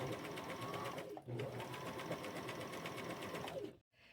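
A sewing machine stitching pockets onto homemade pants, running in one steady close whir with a brief dip near the start and stopping abruptly at the end.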